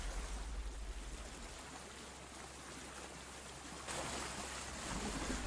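Steady wash of sea water and surf off the coast of Croatia with a low rumble, continuous and moderately distant, swelling slightly louder toward the end.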